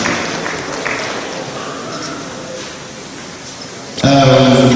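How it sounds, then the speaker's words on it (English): Conference delegates at a Nigerian physical sciences society meeting clap in a broad wash of applause that fills the hall, with a voice starting over it near the end. "Please clap for this man."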